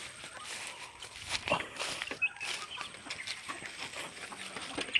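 Chickens at a farmhouse feeding area cluck and scratch about close by, with scattered footsteps and small knocks over a steady outdoor background.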